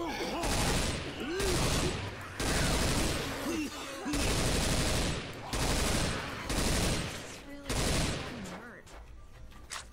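Gunfire in the video game Left 4 Dead, with several long bursts of loud, rapid automatic shots broken by short pauses, and voices talking underneath.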